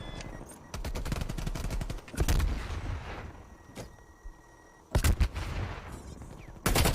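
Artillery and gunfire boom in a video game during an LA Thieves vs OpTic Chicago esports match, with rapid bursts and heavy blasts coming in clusters and separated by quieter stretches.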